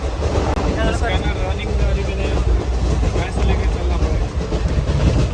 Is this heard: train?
yes